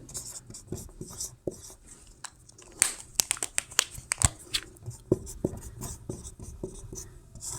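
Marker or chalk taps and scratches on a board during a physics lesson on Gauss's theorem, a quiet irregular run of short strokes and clicks with no talking.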